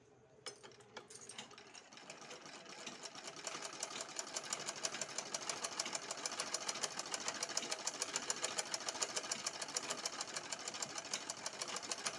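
Sewing machine stitching a double katori blouse, a steady fast mechanical clatter that starts after a short pause and keeps running near and loud without talk.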